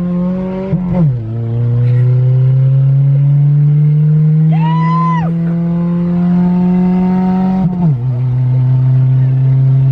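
A loud, steady engine idling and droning throughout, with a few brief revs that shift its pitch.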